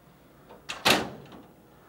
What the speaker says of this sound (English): Make sure your front cover's latched on both sides before you would close the drawer then.